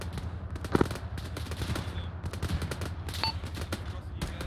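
Military video game combat in Operation Falconer: rapid bursts of automatic gunfire rattle continuously, with a couple of sharper louder shots and a brief beep, under a faint voice.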